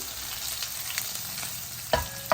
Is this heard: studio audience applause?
no